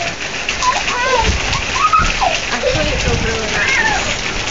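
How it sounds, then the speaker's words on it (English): Summer rain falls steadily outdoors with a soft, even hiss, while birds chirp faintly in the background and a person calls out over it. "Go run out in the rain."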